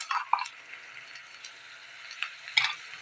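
Ginger, garlic, onion and mustard paste frying in a pan, soft sizzling with a few sharper stirring scrapes and spatters, fairly quiet overall and no talking.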